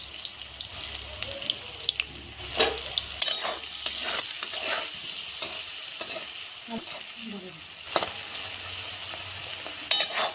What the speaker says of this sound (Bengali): সেদ্ধ করা আলু ছিল তেলের উপরে দিয়ে দিলাম